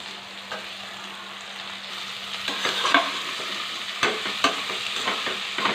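Ivy gourd pieces fry in oil with onion, turmeric, green chilli, curry leaves and ginger paste, giving a steady close sizzle broken by a few sharp stirring clatters, with no one talking.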